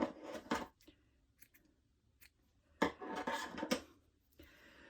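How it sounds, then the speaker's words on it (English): Scissors snip at the yarn beard of a homemade gnome ornament as it gets a quick trim, two clusters of close, crisp cutting sounds with a quiet pause between them. "If you end up with some that are a little bit longer than others, you just give the beard a little trim."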